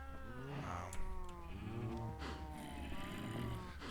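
Cows on a cow farm in the video game Minecraft moo repeatedly in overlapping, drawn-out calls, a small herd heard at moderate distance with no talking over them.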